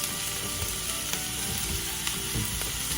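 Chopped vegetables for beef nachos sweat and fry in a hot pan, giving a steady close sizzle with occasional light stirring clicks and no talk.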